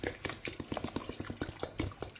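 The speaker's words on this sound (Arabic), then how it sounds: "رح زيد مي باردة لأنه كمان مرقة الدجاج بردت" Cold water pours into a pot of cooled chicken broth, a close, splashy gurgle with rapid bubbling pulses running steadily for about two seconds, with no talking.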